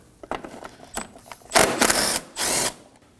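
A 10mm bolt coming out of the radiator shroud on a 2016-2020 Kia Sorento 2.4L, with a few light ratchet clicks and then two longer, loud close bursts of a power tool spinning it free.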